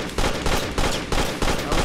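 Rapid bursts of gunfire from a weapon in the video game The Amazing Frog, four loud volleys in quick succession with short gaps between them, no voices over the shots.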